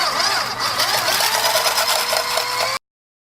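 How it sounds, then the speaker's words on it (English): Egg yolks whisked into a soy milk mixture for honey and ginger ice cream, a steady fast mechanical whirring close by for under three seconds, then silence. "So I'm going to go ahead and whisk this."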